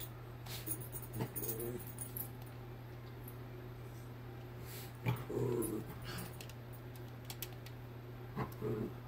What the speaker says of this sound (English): If you hear any weird noises, my dogs have decided to come up here.